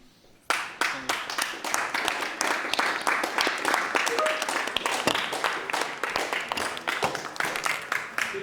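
Students at a union council meeting clap steadily for over eight seconds, a dense, even patter of many hands starting abruptly and continuing without talk.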